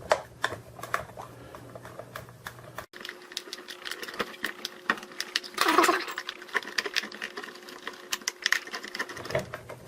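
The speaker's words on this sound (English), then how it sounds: "we're going to tighten those two screws down" Screws being tightened on an electric pencil sharpener during a jam repair, with rapid clicking and ratcheting of the screwdriver, a brief louder whirring burst midway, close up with faint talk.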